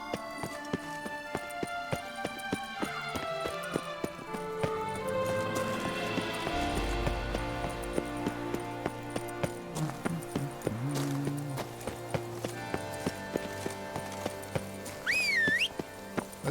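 A horse galloping in The Witcher 3, steady rhythmic clip-clop hoofbeats running throughout under game music, with a brief whistle near the end.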